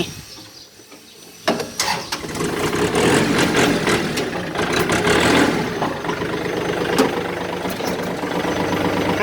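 A used Kubota 32 hp tractor engine starts with a sharp catch after a quiet moment, then runs at a steady, close, loud idle with a rough low rumble and small irregular knocks.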